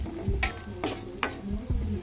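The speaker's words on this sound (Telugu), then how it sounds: "ఇట్లా కలుపుతూ ఉన్నాం కదా" Fish eggs frying in a pan are stirred with a utensil, giving steady sizzling under several sharp scraping strokes at roughly half-second intervals, close and moderately loud.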